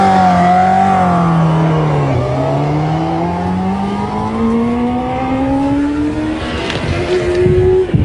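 Motorcycle engine revving high then dropping sharply as the rider chops the gas, the pitch falling steeply before climbing again in a loud close whine, no voices.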